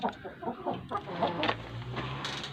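Brahma roosters clucking and calling close by, several overlapping bird sounds against a steady background hum.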